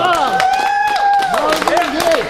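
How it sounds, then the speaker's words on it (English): Audience at a university open-mic night clapping for a singer, with scattered sharp claps under voices calling out and whooping over the applause. "Let's clap it up for Rob one more time."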